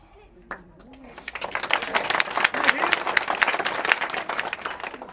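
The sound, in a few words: crowd clapping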